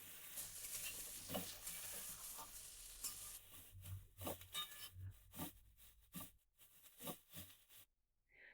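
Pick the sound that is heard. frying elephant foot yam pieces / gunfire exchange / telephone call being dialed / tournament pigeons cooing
frying elephant foot yam pieces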